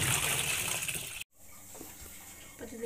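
Washing machine filling with water indoors, a loud rushing gush of water that cuts off abruptly, followed by a quieter trickle and faint background sounds.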